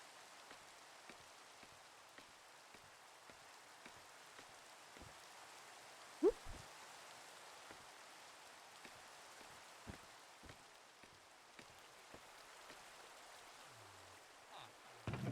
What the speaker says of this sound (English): the cacti are getting some rain